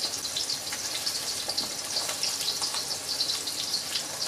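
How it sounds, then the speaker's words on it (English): Sausage almost deep-frying in avocado oil in a pan gives a constant close bright sizzle with small popping spatters, alone without talk. "We're kind of deep frying it almost. Almost deep frying the sausage, but the avocado oil"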